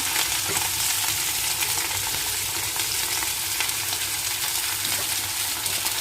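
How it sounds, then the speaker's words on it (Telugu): Coriander leaves frying on a low flame in a pan, giving a dense, continuous hiss of sizzling oil that stays close and loud throughout without pause. "ఇట్లా కొత్తిమీర వేసి వేయించుకోవాలి."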